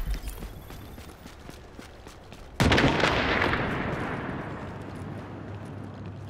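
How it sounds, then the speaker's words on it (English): A sudden loud blast from an explosion in Tom Clancy's The Division erupts partway through, then rumbles and slowly decays over quieter game ambience with scattered small clicks beforehand. "Oh, I just heard an explosion."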